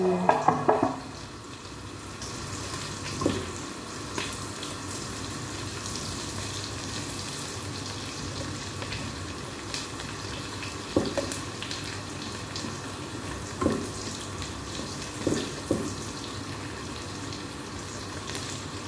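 Onion and garlic sautéing in a pan, a steady low sizzle running throughout with occasional soft clinks of a utensil against the pan, heard close and alone.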